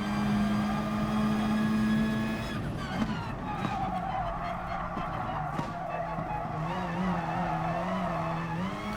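A race car in Gran Turismo Sport roars through a sustained high engine whine, then brakes and shifts as the note drops and climbs again, with tire noise and scraping over the game sound.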